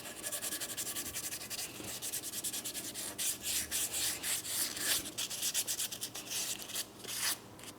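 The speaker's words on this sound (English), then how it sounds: "Now I have my sandpaper. I'll just wrap it around my finger" Sandpaper wrapped around a finger rubs back and forth over a car's front control arm, a soft steady scratchy rasp, close and fairly quiet, with strokes that quicken and sharpen midway.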